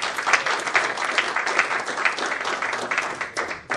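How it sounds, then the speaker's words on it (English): Steady audience applause from a large gathering at a high-level meeting, sustained dense clapping throughout without a break. "they deserve an applause from us for the work they did"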